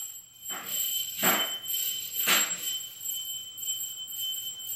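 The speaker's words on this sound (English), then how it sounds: "My dog is ringing the bell because he wants to go out" A dog rings a door bell three times, short rings spaced about a second apart, clear and fairly close, followed by quiet room tone.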